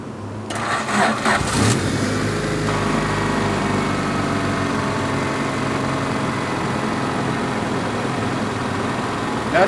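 A car engine, boosted by a POWRUN jump starter, cranks briefly with a rapid chugging and then fires, settling into a steady, loud, close idle that runs on evenly with no talking.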